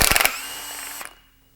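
An impact tool rattles off a 17mm nut on top of a car coilover in a quick burst of hammering pulses, then spins freely with a whirring tone that winds down and stops after about a second.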